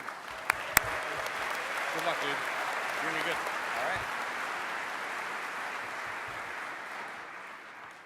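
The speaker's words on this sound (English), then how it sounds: "So let's give Grant a big round of applause and our laptop loaner." A DEF CON conference audience gives a speaker a steady, broad wash of applause. A few voices speak briefly near the start.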